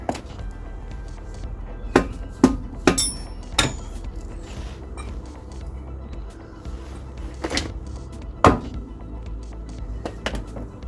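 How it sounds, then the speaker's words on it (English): A hammer taps a polybush into the rear trailing arm of a London black cab, sharp metallic knocks scattered irregularly over a steady background hum in a workshop. "I need to tap this a little bit more"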